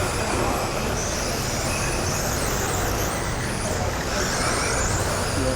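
Cars race around a track in a dense, continuous engine and road roar, loud and unbroken, with several vehicles blending together at mid distance.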